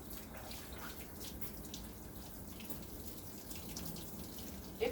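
Tap water running steadily during a surgical hand scrub, a continuous close splashing hiss with a brief louder splash at the very end.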